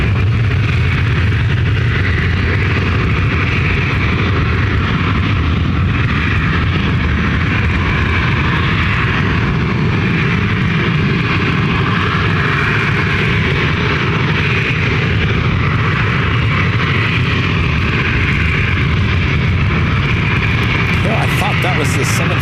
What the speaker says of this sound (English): That was the 757 we were listening to.